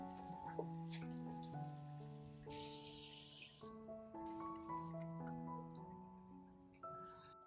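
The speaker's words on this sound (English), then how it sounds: "Rinse lettuce gently under cold running water to remove dirt." Cold tap water runs steadily over lettuce leaves in a sink, with a louder gush of flow near the middle, under continuous background music.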